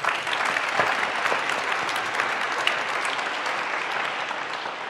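Steady audience applause at an anniversary celebration, a full room clapping continuously and fairly loud throughout, without speech.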